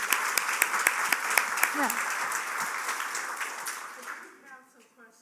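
Audience applause fills a seminar room on emergency preparedness, a dense, steady clatter of many hands that gradually thins and fades out, with a brief voice near the end.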